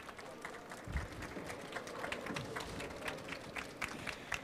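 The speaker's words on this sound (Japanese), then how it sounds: "皆様大きな拍手でお迎えください" An audience at a camera-show seminar hall applauds to welcome speakers. Scattered claps patter fairly quietly and unevenly over a few seconds, with some sharper individual hand claps standing out against a soft room background.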